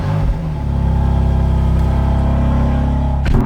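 A BMW M2 fitted with an Eisenmann exhaust holds a loud, steady, droning engine note close by for about three seconds, then briefly flares up at the end.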